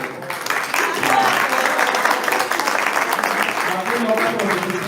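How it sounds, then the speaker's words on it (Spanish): Audience applause for a communication team at a labour law congress in Buenos Aires, a sustained burst of clapping lasting several seconds with speech mixed in. "un aplauso para ellos"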